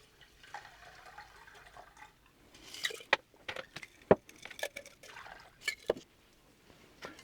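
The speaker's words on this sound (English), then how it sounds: "let's take these and we'll strain them into our bowl, which I've already filled with crushed ice." Cocktail strained from a shaker into a bowl filled with crushed ice: scattered faint splashes, drips and icy clinks arrive in irregular bursts, with brief sharp pings over a quiet background.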